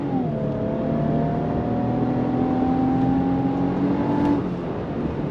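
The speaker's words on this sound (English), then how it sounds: "On throttle. Look at that. 9-speed drops down and we're off." A 2025 Infiniti QX80 full-size luxury SUV accelerates at full throttle as its 9-speed automatic downshifts, giving a steady rising engine drone heard from inside the cabin at moderate level.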